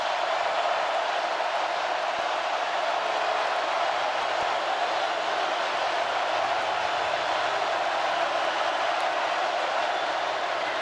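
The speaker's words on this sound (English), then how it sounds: "the crowd at Neyland will let Max Johnson know it's 3rd down and 18" A large football crowd roars continuously at Neyland Stadium for a third-and-18 play, a dense, steady wash of massed voices with no breaks and no distinct speech.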